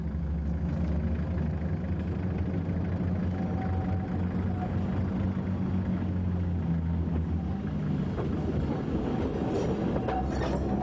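A passenger train rumbles steadily through inland Corsica with a low droning engine and rolling wheel noise, continuous and fairly close, with occasional faint squeals.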